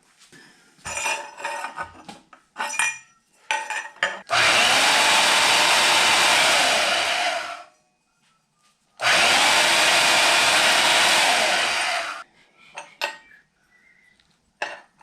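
Metal tube being cut for a lawn mower intake manifold, two long loud sustained bursts of harsh cutting noise about four seconds each, separated by a brief pause, with clanking handling sounds before and after.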